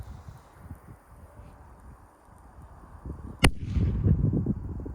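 A Magnum flash firecracker holding half a gram of flash powder goes off outdoors in a single sharp, bassy bang. Wind noise comes before it, and a rumbling, gusty tail follows.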